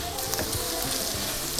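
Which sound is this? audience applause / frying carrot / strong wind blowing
frying carrot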